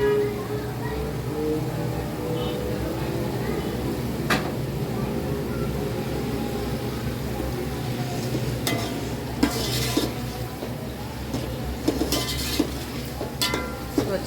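Green chillies frying in masala in a pot for a pulao, a steady close sizzle under repeated stirring, with clinks and scrapes of a spoon against the metal growing busier toward the end.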